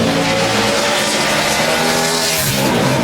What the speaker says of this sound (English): Oh, he was pedaling that car hard right there